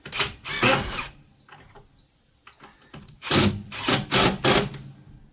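A power drill drives screws into a wooden outdoor swing being repurposed, with two short whirring bursts, then a pause and several more close, loud bursts in quick succession.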